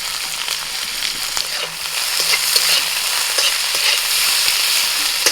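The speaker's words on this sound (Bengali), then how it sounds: "পেঁয়াজ ভালো করে ভেজে নিয়ে দিয়ে দিচ্ছি" Chopped onions fry in oil with bay leaf, cardamom, cloves and cinnamon, making a bright, continuous close sizzle with scattered stirring clicks and scrapes, no voices.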